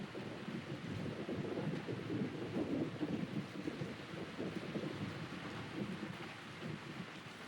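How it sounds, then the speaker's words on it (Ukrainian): In an animated Beyblade X anime episode, heavy rain pours steadily with low rumbling thunder swelling underneath, a dense continuous storm wash with no voices. "Дощ створила система 4Х, тож ніхто не промокне."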